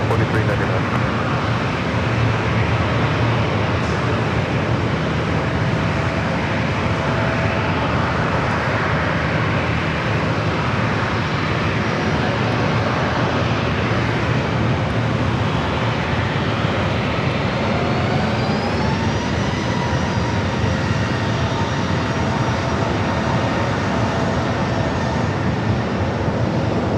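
A Southwest Boeing 737-700 takes off from runway 27 at San Diego airport, a loud continuous jet roar with a rising whine as the engines spool up, and radio chatter woven through it.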